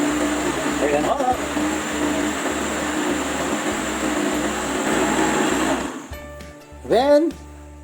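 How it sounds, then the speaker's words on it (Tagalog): A blender whirs loudly and steadily for about six seconds while blending tomatoes for ketchup, then winds down; a voice briefly speaks near the end. "I-blend po natin"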